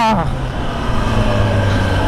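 A 2021 Kawasaki ZX-10R sport bike engine revs loud and close, its pitch sliding down and then holding as a strong, steady drone for about two seconds, with no voices.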